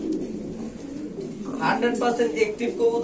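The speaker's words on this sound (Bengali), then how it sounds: "দেখেন এই যে দুইটা কবুতর কত সুন্দর দেখেন" Pigeons cooing at a bird market, soft low murmuring coos running underneath with louder, brighter bird sounds and bustle rising in the second half.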